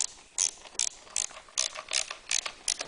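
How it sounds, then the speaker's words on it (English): Ratchet wrench tightening two bolts on a Honda EU2000i generator, a rapid run of sharp metallic clicks in short bursts, close and clear with no talk. "Now we go back and we tighten down the 2 bolts"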